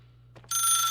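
A telephone in a video game starts ringing abruptly after a brief soft sound, a bright continuous electronic trill that holds steady to the end.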